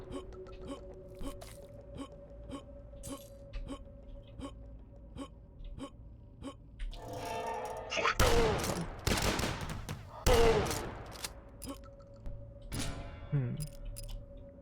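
Grenade launcher blasts and gunfire in the first-person shooter Dusk: loud clustered explosions erupt in the second half, following a stretch of rhythmic clicking game sounds, with a sharp final burst near the end.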